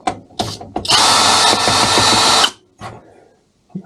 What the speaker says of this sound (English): Let's go on with unscrewing.